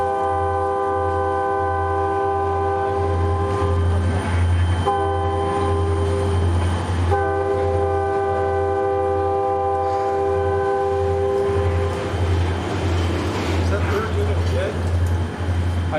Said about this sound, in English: What follows is what I'm guessing is an intermodal transfer from Global 3 to either Global 1 in Chicago or Global 2